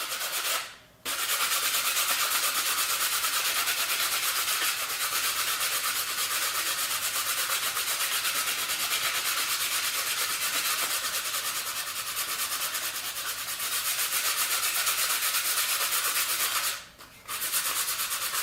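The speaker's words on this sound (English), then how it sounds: "because I'm doing a light sand" Light sanding of a PLA plastic weld, a steady continuous rubbing hiss held close and fairly loud for nearly the whole stretch, with two brief pauses near the start and end.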